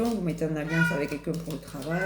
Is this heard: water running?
no